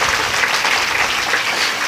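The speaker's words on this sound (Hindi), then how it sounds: "तालियों से स्वागत करिए।" Applause from an audience at a Hindu religious discourse on the Devi Bhagavata, a dense, steady wash of many hands clapping throughout the brief moment with no talk over it.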